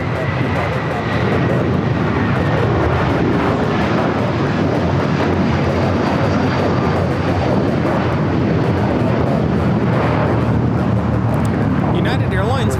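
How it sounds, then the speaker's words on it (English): A United Airlines Boeing 757-300 bound for Honolulu takes off at LAX, its jet engines a loud, constant broadband roar filling the whole stretch. "United Airlines 1431 taking off to Honolulu on the 757-300."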